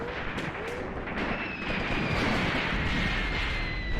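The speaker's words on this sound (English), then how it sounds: "I can already see it's shooting at the enemy." Gunfire and explosions from a vehicle firing on the enemy in the Graviteam Tactics: Mius Front war game, with sharp reports at the start followed by a sustained rumbling din and a whining tone.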